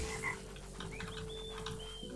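Frog croaking in the video game Toki Tori 2+, heard inside a dark spooky cave level: a few short chirpy croaks and whistled calls over a steady low game hum, moderately quiet and with no voices.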